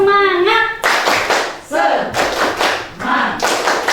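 A classroom group clapping together: a voice calls out briefly, then bursts of hands clap in short rhythmic rounds, close and fairly loud, with voices mixed in between the bursts.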